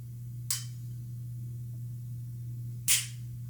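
Two sharp, faint clicks about two and a half seconds apart from the trigger of a Canik SFx Rival S steel-frame competition pistol breaking, over a low steady hum with no voices.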